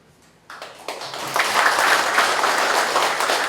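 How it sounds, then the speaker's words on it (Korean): A crowd at a government staff meeting and awards ceremony breaks into applause, starting with a few claps and quickly swelling into loud, sustained clapping. "큰 박수를 쳐주시기 바랍니다"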